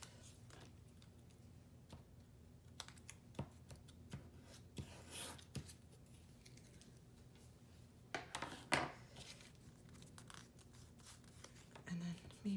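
Scissors snip and rasp through paper being trimmed for a junk journal, several short close cuts among rustling and handling noises, with soft talk at times.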